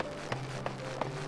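Loud starter-outfit shoes in Final Fantasy XIV tap out three spaced footsteps, each a sharp distinct click over a constant low game tone.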